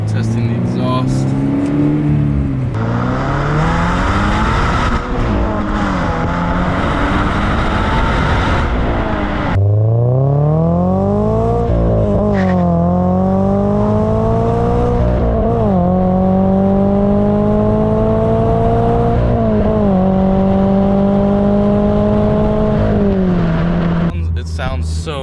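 A 2022 Subaru BRZ fitted with an Invidia N2 aftermarket exhaust revs repeatedly, its deep engine note climbing and falling in sweeping pulls, loud and close, with voices talking over parts of it.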